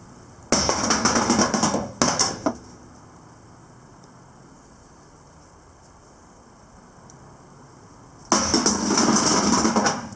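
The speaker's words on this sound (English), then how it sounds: "you just take them out of their nest, and you just toss them." Rocks are tossed onto the ground in a park, each landing in a sharp, hard clatter. Three separate bursts come at the start and end, with a quiet pause between them.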